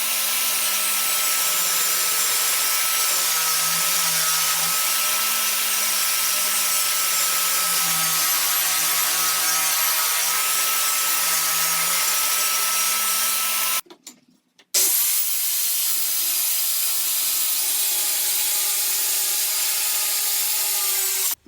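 A table saw rips a 4x8 sheet of 3/4 inch pine plywood, a loud continuous whining cut that drops out briefly near the end before the blade runs on alone.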